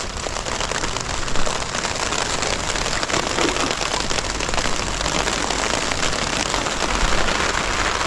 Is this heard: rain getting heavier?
yes